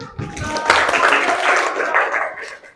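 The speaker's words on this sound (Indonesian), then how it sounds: "tepuk tangan." Applause from a group at an Indonesian teachers' coaching and academic supervision session, a burst of clapping rising quickly and sustained at moderate level for a few seconds, with some voices mixed in.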